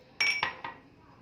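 Cake batter being beaten in a bowl with oil and ghee added, heard as three quick, bright clinks of utensil against the bowl, close and clear, then a fading ring.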